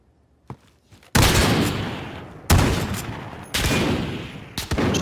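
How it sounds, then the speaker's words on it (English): Bursts of video game gunfire trade back and forth in a 1v1 shooter gunfight tournament match, three loud sustained volleys with short gaps between them, close and dominant with no talk over them. "Shots going back and forth."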